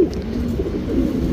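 A male HMT Rekdhar pigeon coos softly and continuously, a low burbling murmur close by with no talk over it.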